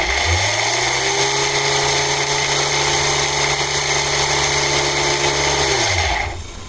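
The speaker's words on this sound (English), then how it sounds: "There's a lot of noise because the bearings are directly in this plastic and it's right resonating." A small electric motor on a test run, its bearings mounted straight into plastic, spins up and holds a steady loud whine with rattling resonance for several seconds before winding down at the end.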